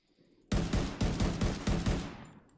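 Rapid bursts of video game gunfire, four tight volleys of shots in quick succession, loud and close, firing at a fast pace from a sharpshooter build.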